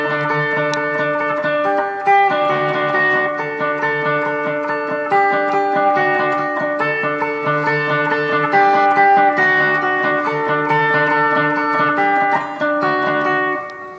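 A guitar plays an intro riff briskly at full tempo for about fourteen seconds, with steady repeating phrases and ringing notes, loud and close, with no voices.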